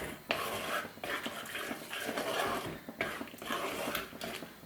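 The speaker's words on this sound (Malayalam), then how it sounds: "കുറേശ്ശെ വെള്ളം ഒഴിച്ചിട്ടൊന്ന് മിക്സ് ചെയ്ത് കൊടുത്താൽ മതി." A spoon stirs fish curry masala thinned with water in a pan for a Kerala-style meen mulakittathu, giving close, rhythmic wet scraping strokes that repeat about every second.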